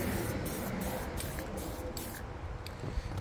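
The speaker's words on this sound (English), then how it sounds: "That's why I'm spraying a little bit closer" A series of short spray-paint bursts from an aerosol can hiss in quick succession outdoors in a breeze, close and fairly loud, with brief pauses between them, painting car interior plastic.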